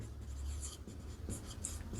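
Pen or chalk scratching on a board in short strokes during a physics lesson, close and fairly soft, with a low hum underneath.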